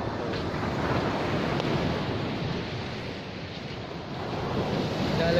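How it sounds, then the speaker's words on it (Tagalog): Strong surf at high tide on a beach, a continuous loud wash of breaking waves mixed with gusty wind buffeting the microphone, swelling slightly toward the end. "high tide, malakas yung alon."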